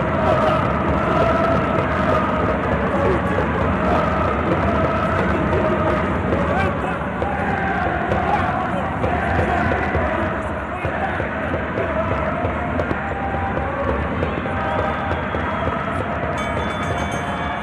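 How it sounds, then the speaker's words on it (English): A Moroccan crowd roars steadily at a boxing bout during an African Olympic qualifying semi-final, a dense, loud hubbub of cheering that holds the whole stretch and dips slightly partway through. "Fantastic noise this Moroccan crowd has made here tonight"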